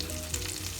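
Chopped onions and green chillies hitting hot oil, a brief steady bright sizzle with faint crackles.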